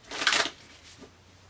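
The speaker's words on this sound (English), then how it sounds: "One more shuffle." A deck of oracle cards is given one quick riffle shuffle, a short close papery burst followed by a faint soft tap as the cards settle.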